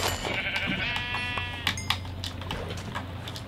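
A sheep in the Minecraft video game bleats a long, wavering cry up close, then a few sharper clicks and short game sounds follow, with no talking.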